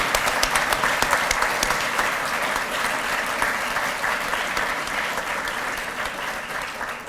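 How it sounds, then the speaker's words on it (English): A large audience at an awards ceremony applauds to thank faculty, dense sustained clapping that starts strong and gradually fades over about seven seconds. "Would you just join me in a round of applause to thank them?"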